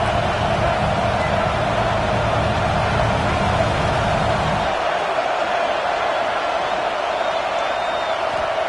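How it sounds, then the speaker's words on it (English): Stadium crowd cheering in the College Football 26 video game on a huge fourth down: a loud, steady roar fills the whole stretch and swells before easing slightly partway through. "this crowd is rising to the occasion"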